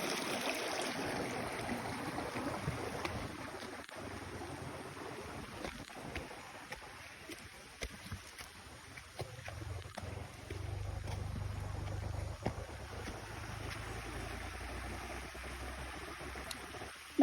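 A shallow mountain river flows steadily at a hiking crossing, a continuous rushing wash of water mixed with gusting wind noise, with no voices.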